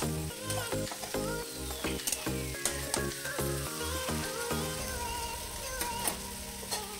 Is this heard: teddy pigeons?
no